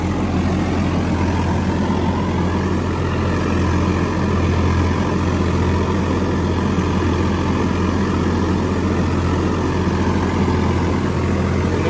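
A Hattat B3080 tractor working a field, its engine producing a steady, loud, low diesel drone that holds constant throughout with no breaks, close by and alone.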